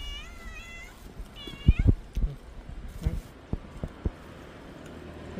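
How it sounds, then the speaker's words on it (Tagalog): A cat meows a few times, high wavering cries near the start, followed by scattered thumps and soft knocks against a quiet background. "May pusa, oh."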